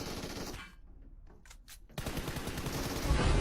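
Rapid automatic gunfire from the mobile battle royale game PUBG Mobile erupts in dense, loud bursts, drops to a sparse gap with a few sharp shots, then returns as sustained heavy firing.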